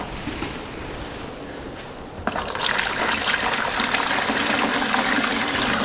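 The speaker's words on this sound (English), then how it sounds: "I take my bucket and I am going to put the warm water, a little bit of it first of all." Warm water pours into a bucket for a homemade hand sanitizer mix, starting as a quieter trickle and then becoming a loud, steady gushing stream up close.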